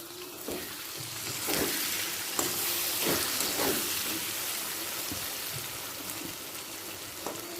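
Catla fish fat and eggplant fry in the fish's own released oil under a lid, giving a steady close sizzle with occasional brighter crackles and pops throughout.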